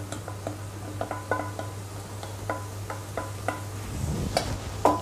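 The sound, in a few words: mushrooms being added to a pan and cooked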